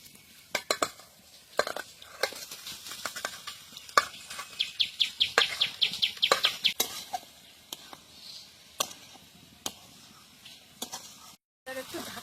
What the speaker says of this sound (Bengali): এখন এর মধ্যে এই ভাজা মাংস কটা দিয়ে দেবো